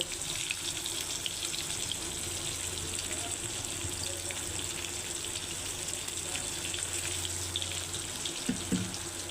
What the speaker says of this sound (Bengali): আর এখন দিয়ে দিচ্ছি জল ঝোল হওয়ার জন্য